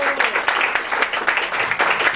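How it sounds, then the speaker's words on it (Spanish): Applause at a formal awards ceremony, a dense steady patter of many hands clapping at close range with no gaps, running the full length of the moment. "Un fuerte aplauso, por favor."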